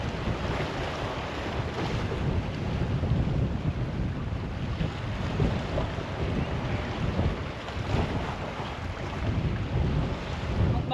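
Strong wind buffets the microphone on a boat out at sea during fishing, a steady rushing roar with gusty swells throughout and no talking.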